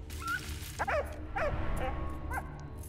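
A dog in the video game Valiant Hearts gives several short yips and whimpering barks in quick succession, clear and close over a low game background hum.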